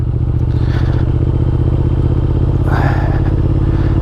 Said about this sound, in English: I'm riding my Thruxton R